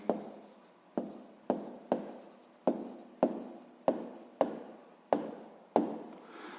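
A pen writes a maths answer by hand on paper, producing about ten quick, evenly spaced scratchy strokes, each with a sharp start that fades, close and alone.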